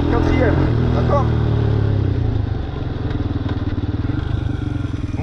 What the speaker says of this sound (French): je lâche l'embrayage et j'accélère, d'accord? Dès que j'entends que le moteur il gueule, deuxième, troisième, quatrième